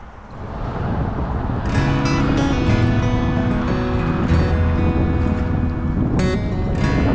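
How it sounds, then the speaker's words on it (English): Rushing M5 motorway traffic overhead, heard from a tunnel below on a river, a loud continuous roar and hiss that swells in and persists with tonal hum, no voices. "it was a bit weird hearing the rush of the M5 traffic above"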